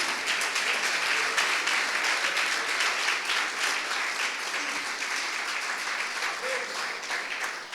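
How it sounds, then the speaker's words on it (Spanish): A church congregation claps continuously and evenly, a dense wash of many hands that holds at steady strength for the whole span, with faint voices mixed underneath. "Dale un aplauso al que tiene la autoridad esta mañana."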